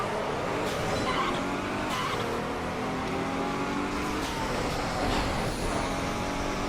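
Lamborghini Gallardo race cars roar through a Midnight Club 3: DUB Edition Remix street race, with loud, continuous engine noise, tire squeal and skidding, and no talking.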